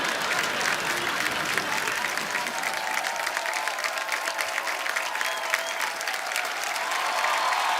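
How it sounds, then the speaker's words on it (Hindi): Studio audience on The Kapil Sharma Show bursts into sustained loud applause, dense crackling clapping filling the room throughout, with faint crowd murmur underneath. "उनके लिए जोरदार तालियां।"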